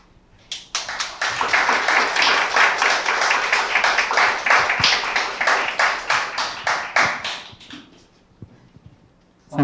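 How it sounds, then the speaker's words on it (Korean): Sustained applause from an audience at a Korea University startup award ceremony, honoring the Lieni Company team. Dense, even clapping fills about seven seconds, then thins into scattered claps before fading. "다시 한번 박수 부탁드립니다"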